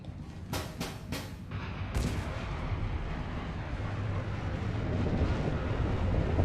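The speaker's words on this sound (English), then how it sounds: "How big a bomb did you put in there?" A bomb goes off in Mass Effect 2. Several sharp blasts come first, then a long, loud rumble that rolls on and builds steadily with no talk over it.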